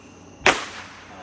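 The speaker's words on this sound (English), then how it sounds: "those are like miniature fireworks" Small firework or bottle rocket bursting with a single sharp crack, followed by a brief crackling, fizzing decay, fairly close and loud against a quiet outdoor background.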